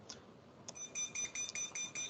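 Buzzer on a motion detector prototype wired through a relay with a light, giving a short chirp and then a run of rapid, evenly spaced shrill beeps, close and clear over a quiet room.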